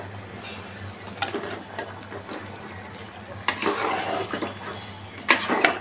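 Chicken and potatoes stirred together in a sizzling pot, with a soft frying hiss under scraping strokes of a spoon against the pot at irregular intervals.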